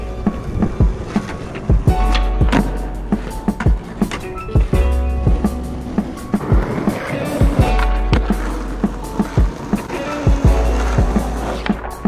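Skateboard wheels roll loud and close on pavement during a warm-up session, with repeated sharp clacks and thumps from the board landing and hitting the ground at irregular intervals.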